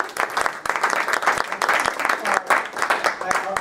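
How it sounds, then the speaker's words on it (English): An audience claps after a question-and-answer talk, with distinct, sharp individual claps over a fuller crowd patter that swell and dip unevenly throughout, close and lively, with a little voice noise mixed in. "Big round of applause"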